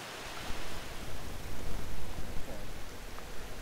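Natural spring water spills down a tufa outcrop at Alum Spring in a woodland, a steady close rushing and splashing with no voices.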